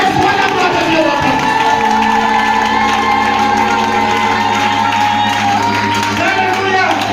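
A church congregation cheers and shouts loudly in praise during a Christian sermon, a steady, dense crowd roar with whoops and clapping mixed with tonal sound and voices throughout.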